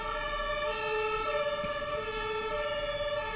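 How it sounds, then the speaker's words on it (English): An ambulance siren sounds outside, a steady, loud tone holding throughout, with no speech. "And another ambulance."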